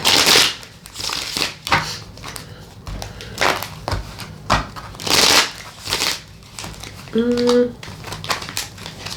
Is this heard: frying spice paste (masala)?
no